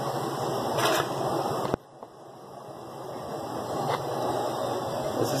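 A Whirlpool Duet washing machine runs its spin cycle with a steady whirring hum and high tonal whine, briefly dropping in level partway through before building back up.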